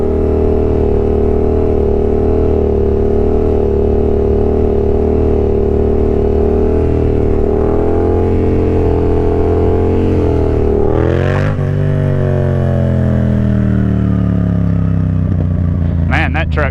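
A Yamaha FZ-07 motorcycle is ridden with its engine droning loudly and steadily up close; the pitch shifts and drops near the end amid wind rush and a few brief clattering knocks.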